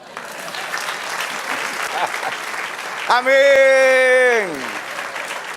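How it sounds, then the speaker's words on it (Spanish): A church congregation bursts into applause during a Spanish-language sermon, a dense steady wash of clapping from many hands filling the room, with a strong sustained voice cutting in over it partway through. "Den un aplauso, Señor."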